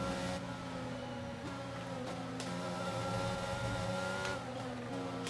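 An F1 2022 video game race car engine runs rough with a damage fault, a sustained tonal drone whose pitch shifts slightly, heard alone at moderate level.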